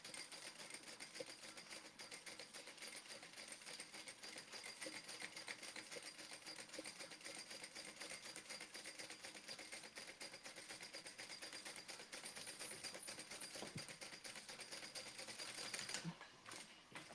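A sewing machine runs steadily, stitching a back slip pocket, with a continuous fast mechanical whirr and clatter for about sixteen seconds before it stops. It sounds fairly quiet and even, with no voices.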